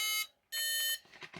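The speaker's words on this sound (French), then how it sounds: "Bip bip, il fait de la musique en s'allumant." Two bright electronic tone bursts from a QIDI 560 model airplane powering on, a short one then a longer one, followed by a few softer chirping notes, close and fairly quiet.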